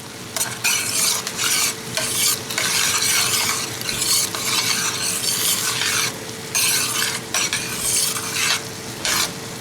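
Bok choy and mixed vegetables stir-fry in a hot pan, loud bursts of sizzling and scraping tossed in an uneven rhythm, with a steady hum underneath and no talking.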